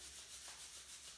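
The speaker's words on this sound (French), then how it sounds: "bien se recharger les mains énergétiquement en les frictionnant" Hands rub together vigorously in quick, even strokes, a close, soft rhythmic friction swishing alone in quiet.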